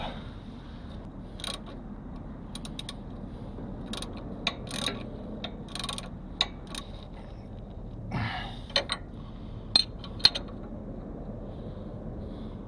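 A Fox 2.0 performance shock bolt is tightened by hand with a wrench, producing scattered short faint metallic clicks and ratcheting bursts over a quiet background hiss.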